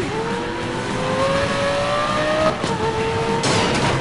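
A Porsche accelerating in the Need for Speed Most Wanted racing game, engine note climbing steadily through revs with a gear change midway, then rising again, loud and close with a brief tire squeal.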